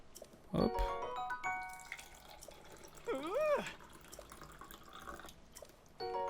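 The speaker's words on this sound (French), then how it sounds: "En appuyant sur A, à côté, je me sers un verre d'eau." A glass of water poured in the Zelda: Tears of the Kingdom video game, with soft dripping and trickling game sounds, a sharp splash early and a gliding chime-like tone in the middle, fairly quiet throughout.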